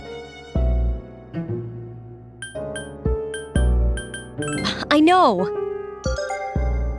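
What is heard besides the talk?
cell phone ringing in Persona 3 Portable video game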